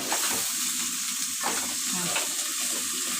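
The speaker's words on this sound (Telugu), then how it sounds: "అల్లం గడ్డ పచ్చి వాసన పోయినంతసేపు ఎర్రగా వేయించుకోవాలి" Ginger sizzling steadily in a hot pan for a chicken curry, with scraping stir strokes breaking through the continuous close frying hiss, no voices.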